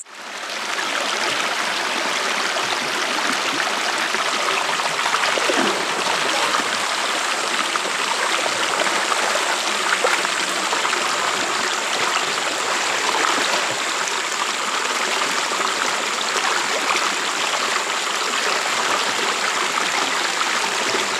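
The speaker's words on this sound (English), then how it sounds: "But what an awesome creek system." A wild creek flows steadily and close by, a continuous broadband rush of water with a faint trickling texture, unbroken for the whole stretch and with no voices over it.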